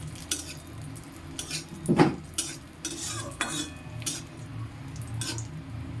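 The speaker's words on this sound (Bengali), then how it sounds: "আমার কাজু ও কিশমিশ দুটোই ভালো করে ভাজা হয়ে গেছে" Cashews and raisins fry over medium heat while a spatula stirs them in a pan, with repeated scraping and clinking strokes over a soft, low sizzle.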